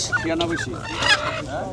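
Chickens and other fowl at a riverside char market cluck and squawk in short bursts close by, with market bustle beneath.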